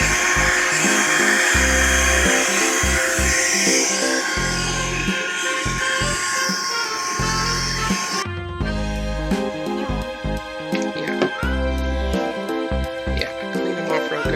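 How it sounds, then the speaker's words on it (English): A small vacuum cleaner sucks dust off the fan and internal parts of a taken-apart electric space heater, giving a loud, steady motor whine that shifts pitch partway through as the nozzle moves. "You wanna, vacuum that off?"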